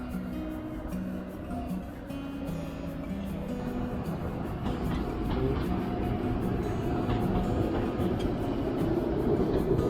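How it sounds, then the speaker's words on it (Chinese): A train rolls past at a Hamburg lakeside spot, a steady, dense rumble that swells slightly toward the end and carries on throughout, with no speech over it. "这是一个可以看火车的好地方。"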